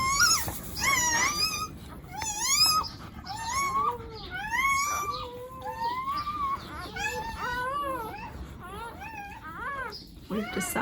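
Newborn puppies of a farm guard dog whimper and squeal continuously in high, wavering cries, several pups overlapping close by with no pauses.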